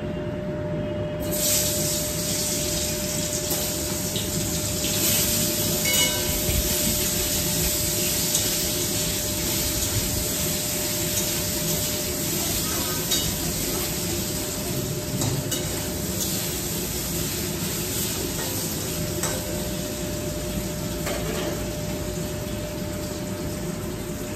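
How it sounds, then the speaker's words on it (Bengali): Potatoes frying in hot oil in a home kitchen pan, a steady dense sizzle running continuously at close range with occasional faint stirring scrapes and no talking. "আলুগুলো ভেজে নিই।"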